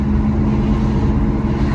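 The engine of a Kei truck runs steadily, with a constant low rumbling idle and no voices.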